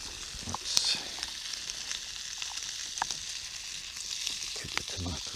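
A tomato fries in a pan over a camp fire outdoors with a steady, close sizzle and crackle throughout, a few small clicks and knocks scattered on top and no talk.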